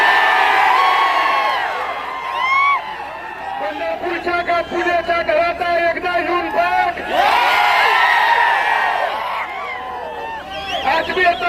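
A large crowd at a political victory rally in Pandharpur cheers and whoops loudly, surging in waves of shouting with a brief lull in the middle before swelling again.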